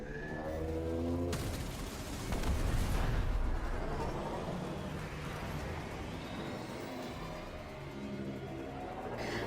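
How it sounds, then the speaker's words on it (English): Torpedoes fired in a video game: a loud, continuous rumbling barrage with deep booming blasts that swell in the middle, then a lingering roar. "We need heavy ordnance. Fire torpedoes."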